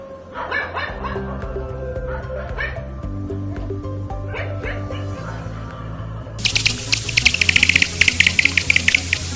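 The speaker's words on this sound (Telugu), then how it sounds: "కుక్కలు రాత్రి సమయాలలో ఎక్కువగా ఎందుకు అరుస్తాయి?" Dogs bark repeatedly in quick bursts over a rhythmic background, growing into excited, higher-pitched yapping toward the end.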